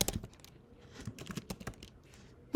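Rapid typing on a computer keyboard, a steady run of close, light key clicks with a louder keystroke at the very end, no voice present.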